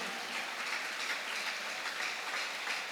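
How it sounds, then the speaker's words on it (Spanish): A church congregation at a Spanish-language service applauds loudly in praise, a thick, continuous wash of clapping from many hands that stays steady throughout. "aplauda fuerte, dele gloria a Jesús"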